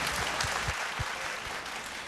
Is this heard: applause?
yes